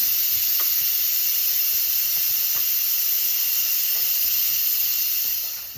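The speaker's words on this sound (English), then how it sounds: "now we're going to release the pressure and see if our meat is cooked and tender" Steam rushes from a pressure cooker being vented after cooking beef, a loud, steady, close hiss that holds evenly throughout and eases off only at the very end, with no talking.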